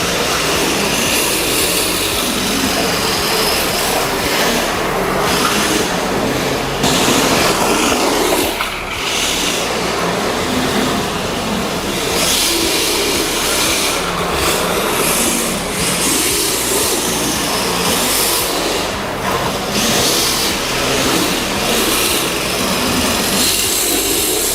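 A lightweight LP-86 radio-controlled drift car with a LiFe battery and 380 motor runs at an indoor RC track, its high whine and tire hiss continuous and loud for the whole stretch, with no talk.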